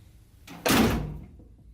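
A Datsun 280Z door swings and shuts with one loud, heavy clunk, a short close thump standing alone with a brief decay and no talk.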